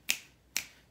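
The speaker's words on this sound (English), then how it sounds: "Can be snapping." Two crisp finger snaps, evenly spaced about half a second apart, close and fairly quiet, each with a sharp attack and brief decay.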